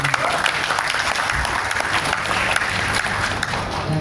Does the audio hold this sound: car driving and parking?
no